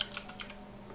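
A computer keyboard clicks with a few quick, faint keystrokes in a short burst, close by with nothing else over it.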